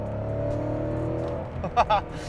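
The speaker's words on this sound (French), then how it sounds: "le son que ça fait ce V8 là" A Porsche 928 GT's V8 engine rumbles steadily with deep harmonics, then gives two short, sharp revs near the end.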